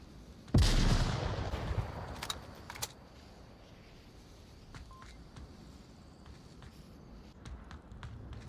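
Gunfire in the VR shooter Onward, one loud close shot followed by a few sharper cracks and scattered fainter pops and clicks, with the background dropping quiet afterward.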